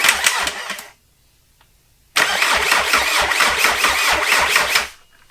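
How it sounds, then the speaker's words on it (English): A VW ALH TDI diesel engine in a right-hand-drive TJ Wrangler is cranked on the starter in two loud, close bursts of rapid rhythmic chugging, with a pause of near silence between them. "Okay, motor spins over."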